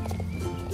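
A North Swedish Horse in a video game makes hoof clip-clops and a short whinny-like call over steady game background sound, close and moderately loud, with no voices.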